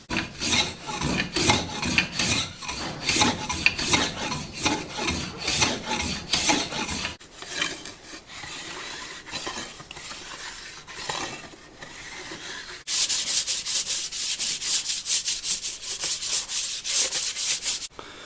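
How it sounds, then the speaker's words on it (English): Rhythmic rasping strokes of a plane taking a wooden bar down to bare wood and rounding its corners, vigorous at first, then softer scraping, then a dense, bright run of fast shaving strokes. "I'll plane it down to bare wood and clean up the corners, make them nice and round"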